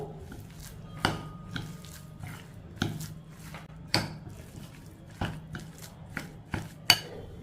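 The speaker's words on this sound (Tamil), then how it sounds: "இதை நல்லா மிக்ஸ் பண்ணிக்கிடுவோம்" Soft scraping and clinking of a utensil against a pan, repeated in uneven strokes with a faint steady hum underneath.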